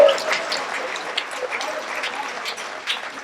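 An audience at a political talk gives a steady patter of clapping that fills the whole stretch at moderate volume, with no voice over it.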